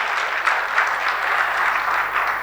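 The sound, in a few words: audience applause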